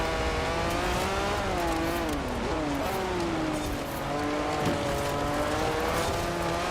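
Lancia Stratos A-class rear-wheel-drive rally car in Forza Horizon 4, its engine droning and revving continuously with rising and falling pitch as it struggles, a steady loud mechanical note with hints of tire scrub.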